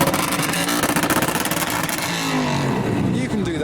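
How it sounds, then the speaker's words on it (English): Audi RS6 engine revving loudly as the car pulls away from a modified car show in Belgium, a rough throaty roar with rising revs, heard close with crowd and rain ambience around it. "Revolutions from the RS6."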